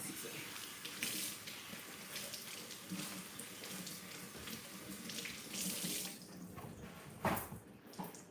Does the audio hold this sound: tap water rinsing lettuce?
yes